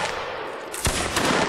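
Gunfire in a multiplayer online battle during a one-versus-one event, a sharp shot near the middle followed by scattered further reports over steady noisy game ambience.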